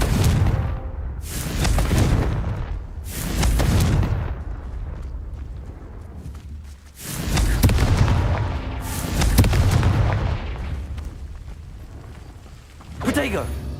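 Heavy booming blasts of the Confringo fire spell in the Hogwarts Legacy video game, about five loud explosions arriving in irregular bursts, each with a rumbling tail that fades before the next.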